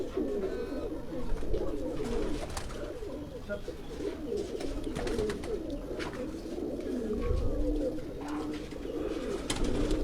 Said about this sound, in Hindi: आप इसमें चप कबूतर जो हैं जिन्हें आप चपड़े भी पंजाबी में हम कहते हैं, ये भी बड़ी ख़ास ब्रीड है।